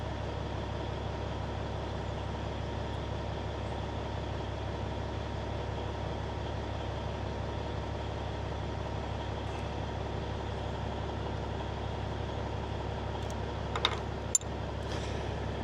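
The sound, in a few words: Kenworth K100 cabover truck engine idling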